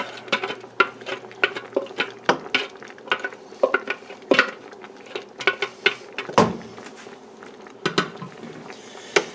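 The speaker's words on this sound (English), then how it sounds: "And kind of give everything a little stir" A utensil scrapes and knocks inside a pot of chili verde stew in an irregular rhythm of clinks and swishes, close and moderately loud, with no voices.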